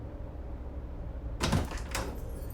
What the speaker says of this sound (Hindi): जाके दरवाजा खोल